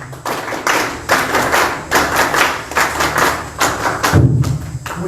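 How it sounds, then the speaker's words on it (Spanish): Audience at a debate on industrialization in Peru applauds steadily to welcome a speaker, dense continuous clapping from many hands filling the room, with a heavier thump near the end. "lo recibimos con fuertes palmas"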